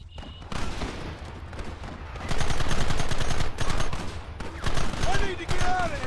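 Gunfire in the western game Red Dead Redemption: dense rifle and pistol volleys crackle in overlapping bursts, swelling and easing, with shouted voices between and under the shots.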